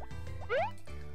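A watering can pours on crops in Harvest Moon, a short liquid splash with a rising, drippy plop in the middle, soft and close against a quiet game background.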